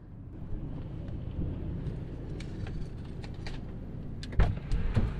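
Strong, cold wind buffets the microphone outdoors during an overland trip in California, a continuous rough rumble with sharper gusts and thumps toward the end.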